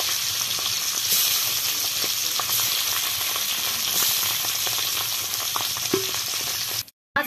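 Small tangra river fish frying in oil in a pan, giving a loud, dense, continuous sizzle with scattered pops and crackles that runs unbroken for several seconds before briefly cutting out near the end.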